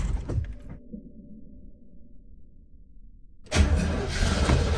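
A 1964 Chevy Corvette Stingray with a 327 V8, just fitted with an Edelbrock carburetor, cranks with a low rumbling churn, then bursts into a loud, roaring catch that holds for the last second or so.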